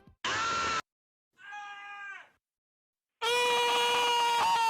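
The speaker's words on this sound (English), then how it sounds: "the early enemy screams." Three short cut enemy screams from the Pizza Tower video game, loud and close: a harsh burst, a brief pause, a higher tonal wail, silence, then a long sustained shriek, with no other sound around them.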